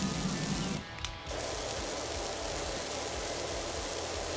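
A pressure washer in the video game PowerWash Simulator spraying off grime, a loud steady hiss that stops for a brief moment and then resumes, continuous and close, with no talking.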